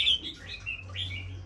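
A male songbird kept for sale chirps close by in short bright bursts of high, sliding whistles, a few quick phrases against a faint low background hum.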